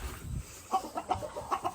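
Chickens clucking in short, separate bursts spread across the moment, close and moderately loud with a low rumble underneath and no talk, as the birds are fed conditioning food.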